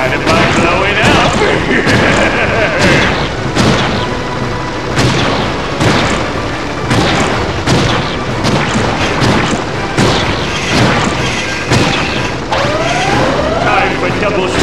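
A SpongeBob video game explosion blasts open a locked barrier: a string of sharp, loud booms and crashes bursts out over busy game sound effects and music, with hits recurring throughout.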